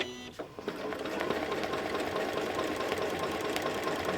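A Janome M8 sewing machine stitches at a slow, steady pace with a quarter-inch ruler foot, its motor whirring continuously and close by for the whole stretch.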